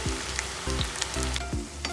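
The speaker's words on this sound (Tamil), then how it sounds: "இப்போ பாருங்கள், நல்லா ஃப்ரை ஆயிடுச்சு. என் பபுள்ஸ் எல்லாம் அடங்கி நல்லா வந்துருச்சு." Onion pakoda bubbles in hot oil with a close, steady crackling sizzle, and a few recurring low swooping tones run underneath.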